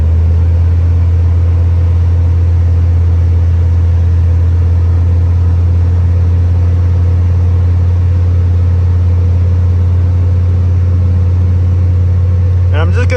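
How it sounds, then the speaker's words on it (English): A 1995 Chevy 454 big-block V8 in a dually pickup idles with a loud, steady low rumble, its revs raised slightly to a constant hum, with a brief clatter of handling noise near the end. "I'm gonna go up on the RPMs a little bit."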